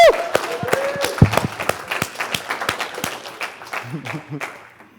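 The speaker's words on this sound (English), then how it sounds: "let's give a round of applause for Max" A live seminar audience claps and cheers for a volunteer named Max, scattered hand claps with a whoop near the start, fading over a few seconds while a voice talks over it.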